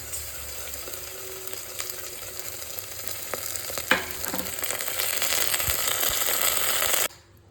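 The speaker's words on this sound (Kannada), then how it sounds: "ಚೆನ್ನಾಗಿ ಫ್ರೈ ಮಾಡ್ಕೋಬೇಕು ಗೋಡಂಬಿ ಎಲ್ಲ" Cashews, dried chillies and garlic paste sizzling loudly in hot ghee in a pan, a steady frying hiss with stirring scrapes, then cutting off abruptly near the end.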